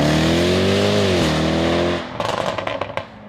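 A Jaguar F-Type V6 engine and exhaust hold a strong rising and falling drone up close, then break into a rapid crackling burst of pops and bangs as the throttle lifts.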